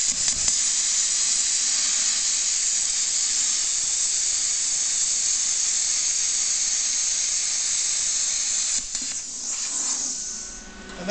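An Everlast plasma cutter slices through 3/8-inch aluminum, a loud, steady, bright hiss that holds for several seconds before sputtering and tapering off at the end of the cut.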